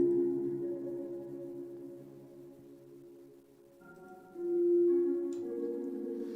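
Slow video game piano music drenched in heavy reverb, with sustained, ringing notes that swell and blur into one another, soft and spacious, a new chord blooming near the end.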